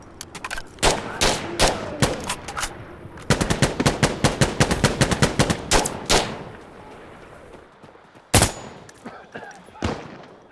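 Gunfire in Insurgency: Sandstorm, a loud close burst of rapid automatic shots, then single sharp shots and another long rattling volley, with a few isolated loud reports trailing off at the end.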